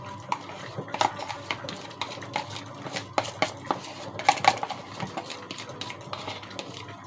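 A utensil scrapes and taps against a pan while cream is stirred into rice, with irregular light clinks and scrapes throughout and no talking.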